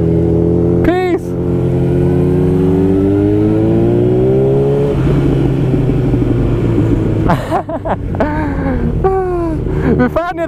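A Yamaha motorcycle with its dB killer removed from the exhaust revs hard and rises in pitch, then drops back to a loud rumble, with shouting voices over it near the end.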